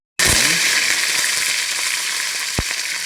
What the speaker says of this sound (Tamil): எண்ணெய் சூடாகிட்டு இப்போ நாங்கள் கடுகு சீரகம் சேர்த்துக்கொள்வோம்.